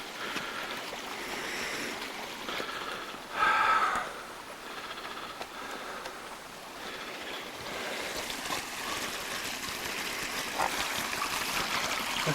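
Floodwater flowing around a house in March 2003, a steady broad rush of moving water with a brief louder surge midway and a constant churning wash throughout, no voices.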